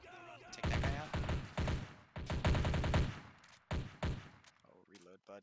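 Rapid automatic gunfire from the Men of War: Red Rising mod battle at a North Korean military complex, arriving in loud repeated bursts with short pauses between them, while a voice shouts over parts of it.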